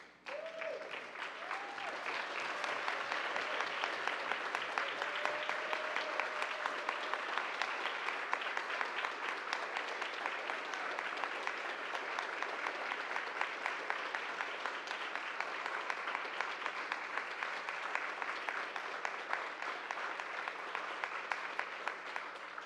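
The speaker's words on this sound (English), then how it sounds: "would you please give her a standing ovation?" A congregation gives Sybil, their longtime Director of Religious Education, a standing ovation: dense, steady applause that swells within the first second and holds evenly for over twenty seconds.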